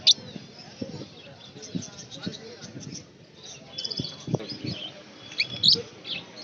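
Fischer's lovebirds chirping at a Sunday pet and bird market in Dankuni, Kolkata, with short high twittering calls scattered through busy market chatter and voices nearby.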